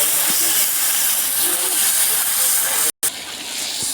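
Whole spices (cardamom, bay leaf, dried chilli, cumin) frying with ginger-tomato paste in a pan, giving a loud, steady sizzling hiss as they are stirred, with one brief cut near the end.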